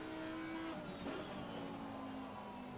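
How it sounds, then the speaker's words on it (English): An Audi R8 GT3 EVO with a V10 engine in the racing game Assetto Corsa Competizione revs at high pitch, its tone dropping and climbing again through a gear change, faint and steady. "V10 engine, big engine at the right behind us."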